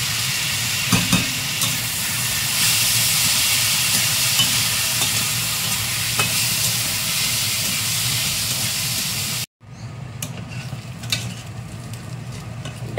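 Washed moong dal frying with a pinch of asafoetida in a pan, a loud continuous sizzle and scraping stir that cuts out abruptly, then resumes more faintly.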